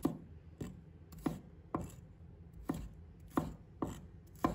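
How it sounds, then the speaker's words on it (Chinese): A knife chopping shallots into small pieces on a board, with about eight sharp, evenly spaced thuds heard close up and alone. "再准备1把红葱头，把它切成小粒。"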